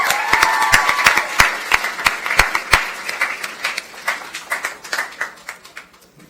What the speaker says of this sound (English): Another round of applause for Mr. LeBon.